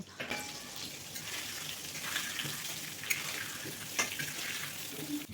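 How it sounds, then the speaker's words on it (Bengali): Potato pieces seasoned with salt and turmeric fry steadily in hot rice bran oil, a continuous close sizzle broken by a few scrapes and clicks of a spatula stirring the pan. "নুন আর হলুদ দিয়ে আলুটাকে আমি সুন্দর করে ভেজে নেব"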